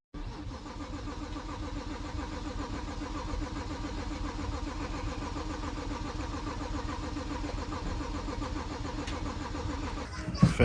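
A single-turbo BMW 335is engine on its first start, running in a steady, loud, rough idle with a low rumble close by that holds for the whole stretch before a few sharp knocks at the end.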